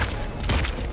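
Gunshots in the Silent Hill 2 Remake video game, a short loud burst of sharp, booming reports against a dense, noisy background.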